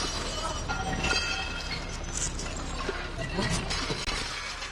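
Glass item shattering while dumpster diving through discarded household goods, a brief crash amid noisy outdoor background.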